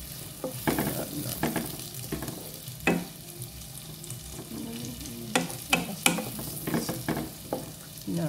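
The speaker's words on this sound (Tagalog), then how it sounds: "Ayan, ilalagay natin ang sibuyas." Onions sizzle and fry in butter in a pan, a steady crackle broken by several sharp scraping stirs and clinks of a utensil against the pan, close and fairly loud with no talking.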